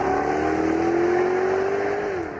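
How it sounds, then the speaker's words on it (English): Jaguar XKR S sports car engine revving hard through a less restrictive exhaust, a loud steady drone with a rising pitch that dips briefly near the end, close and continuous with no talking. "what you can probably hear is a less restrictive exhaust"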